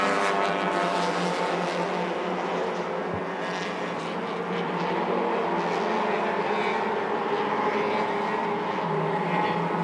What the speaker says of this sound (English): Darwin and Jonathan Z, formidable in that OPM light racing car.